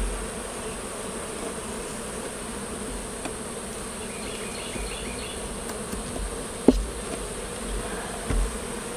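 Honey bees robbing a weak hive make a dense, steady buzzing hum close by, with a few faint knocks over the continuous drone.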